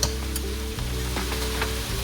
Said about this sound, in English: And now put in our garlic and ginger mixture.